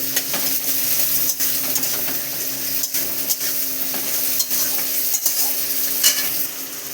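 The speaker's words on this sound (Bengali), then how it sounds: "দুটোকে একসাথে সুন্দর করে ভেজে নেব।" Green chillies and onions frying together in a pan, stirred continuously: a steady bright sizzle with repeated spatula scrapes and metallic knocks against the pan, close and fairly loud, no talking.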